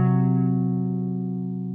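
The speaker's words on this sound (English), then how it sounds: "It's the sharp four or flat five." A guitar sounds a tritone interval, two sustained notes ringing together with a clean tone, plucked once and slowly decaying, heard alone.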